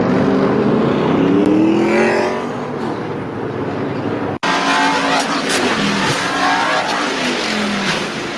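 NASCAR race cars roar past at speed with engine revs and tire noise, loud and continuous, broken by a sudden cut partway through before the racing noise resumes.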